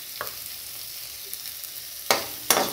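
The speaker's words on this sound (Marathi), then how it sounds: "त्याच तेलात मी बारीक चिरलेला कांदा टाकला आहे" Finely chopped onion frying in oil in a pan, a faint steady sizzle with a couple of sharp stirring scrapes near the end, with no voices.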